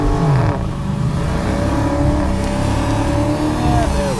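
A Dodge Challenger R/T Scat Pack 1320 doing a burnout at a drag strip: loud, steady engine roar held at high revs with squealing tires throughout, close and continuous with rising pitch.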